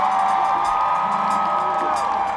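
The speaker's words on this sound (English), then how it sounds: "Give yourselves a great round of applause." Concert crowd at a tribute festival cheering and whooping, a dense continuous roar of voices and applause, loud and sustained throughout.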